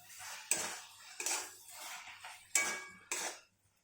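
A spoon scrapes and clanks in a pan while cut okra is stirred into gravy, four or five distinct metallic strikes with scraping between them, close and fairly quiet, no talk.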